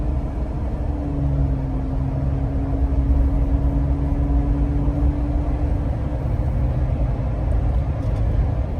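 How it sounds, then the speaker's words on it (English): Car with a factory stock intake at highway speed, giving a steady road rumble and engine drone while a rising then falling engine tone marks throttle and a downshift; no one talks. "I'm gonna give it a little gas, let it drop down a gear, and let's see if it makes the factory one makes any noise then"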